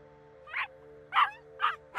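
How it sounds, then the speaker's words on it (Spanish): A dog named Puki barks from an upstairs room, four short yipping barks in a loose rhythm, moderately loud over a faint steady hum. "Puki ladraba en el cuarto de arriba"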